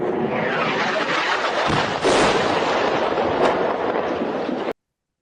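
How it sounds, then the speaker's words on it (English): An airstrike detonation rumbles as a sustained, noisy blast wash, with a sharper burst about two seconds in and a second, smaller pop shortly after, all heard from a distance and ending abruptly. "watch the detonation when the airstrike comes in"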